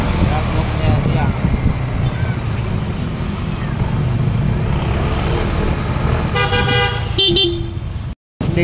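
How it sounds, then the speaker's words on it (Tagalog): Heavy road traffic on the way to Makati, a steady rumble of engines with several car horns honking near the end, while people talk. "Tingnan mo naman yung sobrang traffic."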